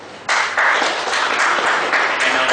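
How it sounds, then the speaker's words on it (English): A burst of applause breaks out after a quiet moment at a presentation event, steady clapping from a group that keeps going to the end. "And we hear some applause to Amith."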